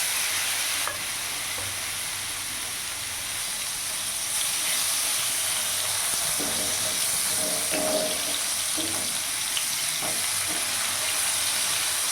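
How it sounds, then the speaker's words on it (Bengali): Paneer pieces shallow frying in oil with a little turmeric, giving a steady soft hiss and sizzle with occasional stirring scrapes and clinks, fairly quiet, with no talking. "এরই মধ্যে পনিরের পিসগুলো আমি স্যালো ফ্রাই করে নেবো"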